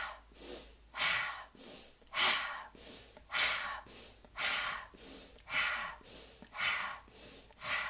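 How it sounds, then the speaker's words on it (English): Repeated short breaths, drawn in through the nose and pushed out through the mouth in a guided meditation breathing round, about ten even rhythmic cycles, close and clear with no talking. "breathing in through the nose, exhale out the mouth"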